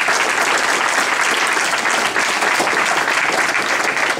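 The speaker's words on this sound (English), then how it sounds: "Can we get a round of applause for the high school students" Loud, dense applause from a crowd at an MLK honors evening in Central Falls, many hands clapping steadily together for high school student performers without letup.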